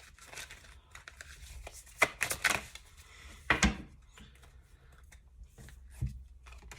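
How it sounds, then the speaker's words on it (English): Soft tarot card shuffling with a few sharp riffles and taps against a quiet background; no voices. "So I'm just going to keep shuffling until we pull out 1 or 2 more cards"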